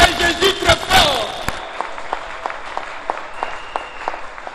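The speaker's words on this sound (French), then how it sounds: "Est-ce qu'on peut acclamer Jésus très fort?" Church congregation at a Congolese thanksgiving service applauding and cheering for Jesus, loud dense clapping and crowd noise at first, then thinning into scattered claps and sharp transients over a quieter room.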